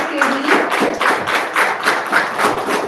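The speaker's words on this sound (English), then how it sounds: "A huge round of applause for Neer K. Veer." An audience claps for children being introduced at an event, a short burst of brisk, fairly close applause with rhythmic swells.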